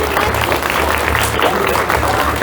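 Applause for a bride and groom kissing at a wedding ceremony, a dense, steady clapping from a crowd of guests that stays loud and even throughout.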